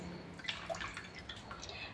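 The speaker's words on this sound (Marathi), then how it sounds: "हे थोडेसे असे दाबायचे, याच्यातलं पाणी काढायचं आहे आपल्याला" Faint, scattered drips of water falling in quick irregular drops from squeezed soaked bread, close by, over a soft background hiss.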